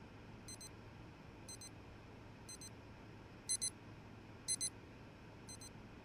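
A device repeatedly sounds a heartbeat warning signal: paired high electronic beeps about once per second, six groups in all, two of them noticeably louder, over a quiet background hum.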